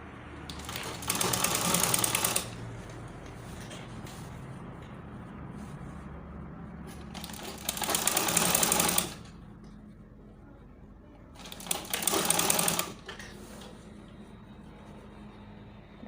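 A sewing machine stitches a shirt collar on Ankara fabric in three short bursts of rapid, loud whirring, each a couple of seconds long, separated by quieter pauses with faint handling noise.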